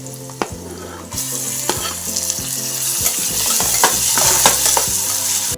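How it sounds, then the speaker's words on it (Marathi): Onion fries in a pan with mustard seeds and cumin while making Indian brinjal bharit, a loud steady sizzle broken by repeated stirring scrapes and clinks of a utensil against the pan. "कांदा जरा भाजून घेते"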